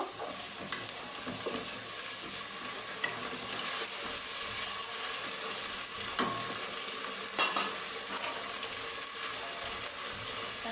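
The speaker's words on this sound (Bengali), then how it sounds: "আদা রসুন বাটা আদা রসুনটা আমি একটু ভেজে নিব" Ginger-garlic paste with chili, turmeric and coriander powders frying in a hot pan, giving a steady, close hiss of sizzling with occasional stirring scrapes throughout.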